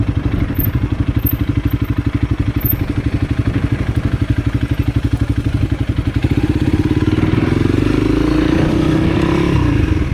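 A Honda CRF300L dual-sport motorcycle rides slowly through a parking lot near Santa Monica Pier, its single-cylinder engine thumping in a steady, close, loud low pulse that rises slightly in pitch toward the end as it picks up speed.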